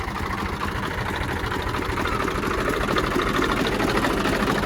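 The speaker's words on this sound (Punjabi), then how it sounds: "ਟਰੈਕਟਰ ਵੀ ਆ ਰਿਹਾ" A steady, rumbling engine chugs continuously at moderate loudness, a diesel tractor approaching on a farm with a rhythmic knocking beat.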